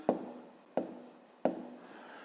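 A pen writes an answer on paper in three short, evenly spaced scratching strokes, close and fairly quiet, with no talking.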